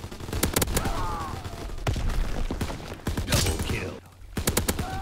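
Rapid bursts of KG M-21 rifle gunfire in the World War II shooter Call of Duty WW2, loud repeated shots in quick clusters with a brief pause near the end before more firing.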